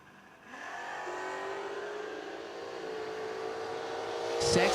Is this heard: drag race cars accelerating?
yes